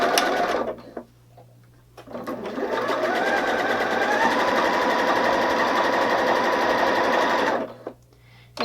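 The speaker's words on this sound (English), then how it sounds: "Now go ahead and sew this armband onto your Flutter" A sewing machine stitches an armband onto the flutter sleeve of a girl's dress, a steady close whirring run of about five seconds between short pauses and quieter handling sounds.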